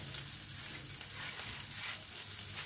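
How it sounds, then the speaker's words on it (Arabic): Red and green sweet peppers fry in a small ladle of oil, giving a steady, close, even sizzle with no talking. "ونحمصهم شويه"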